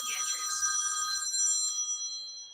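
A telephone bell rings in a bright, shrill trill that holds steady for about two seconds, then cuts off, heard alone and fairly close.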